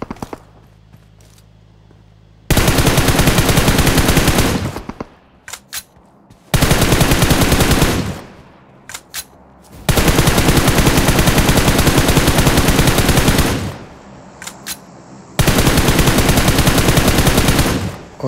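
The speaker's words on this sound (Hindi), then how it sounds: "एनिमी होते हैं जो इन पर फायर कर रहे होते हैं" Enemy gunfire in a shooter video game: loud automatic bursts, four long sustained volleys separated by brief pauses dotted with single sharp shots.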